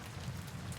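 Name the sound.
rain falling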